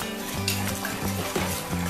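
Turmeric, chili powder and asafoetida are stirred into ginger curry in a pan over high flame, a close scraping stir with a light sizzle and small clinks of the utensil.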